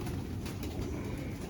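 A pigeon coos softly in a short burst, nearby, with a low, throaty murmur and faint background noise.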